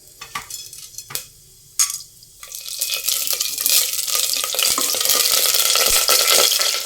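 Whole garam masala hits hot mustard oil in a pan, with a few sharp clatters and taps first, then a sizzle that swells into a loud, steady frying hiss.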